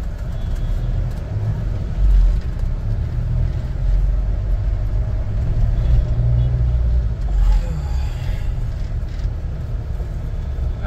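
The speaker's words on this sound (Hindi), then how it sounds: "अब गाड़ी भी आ रही है" A car drives along a road near Bhiwani, with a continuous low engine and tyre rumble that stays loud and steady throughout and rises slightly as it comes closer; no clear voices.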